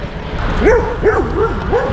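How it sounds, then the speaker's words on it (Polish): A small dog gives three or four close, high yipping barks in quick succession over a steady low background rumble. "Piesek."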